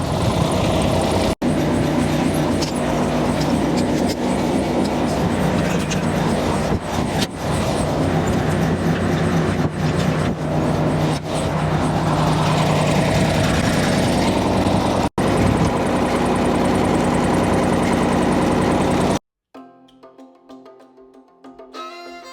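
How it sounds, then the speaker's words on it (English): John Deere compact tractor driven along a county road, its engine a loud, continuous rumble with wind buffeting, ending abruptly in a quieter stretch of lighter sound. "you're gonna have to take the tractor and just drive it down the road to go get the bush hog"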